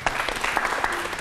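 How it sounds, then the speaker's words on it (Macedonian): An audience at a technical education event in Veles claps steadily together, a dense, even patter of many hands that fills the short moment without pause. "Браво, аплауз."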